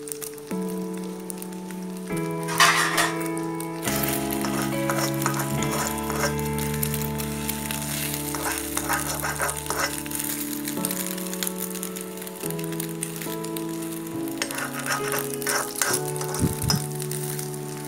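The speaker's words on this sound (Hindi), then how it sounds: "हाई फ्लेम पे अंडे को डालती हूँ, अंडा फ्राई करती हूँ।" An egg fries in oil in a kadhai over a high flame, a steady crackling sizzle with scattered pops and spatters running alone throughout, while a melodic background tune plays underneath.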